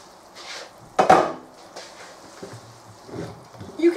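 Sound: lifting the lid off a pot of chicken and mushrooms

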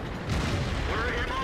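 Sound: KV-5 tank cannon shot in World of Tanks video game

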